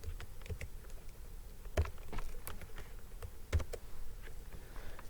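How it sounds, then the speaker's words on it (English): Typing on a computer keyboard: a steady run of quiet clicks and taps, with two louder key strikes near the start and middle, over low background hum and no talking. "let's see if I can do this typing"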